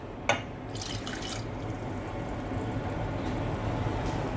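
Vinegar poured into a measuring cup in a home kitchen while making strawberry BBQ sauce for baby back ribs, a brief drip at the start followed by a steady, soft liquid trickle that continues throughout.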